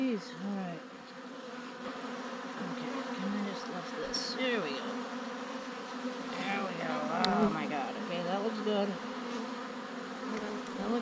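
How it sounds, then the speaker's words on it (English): Honeybees from an open beehive during a swarm capture hum in a dense, steady drone, with individual bees zipping past the microphone close by; no talk. "Look at these busy bees."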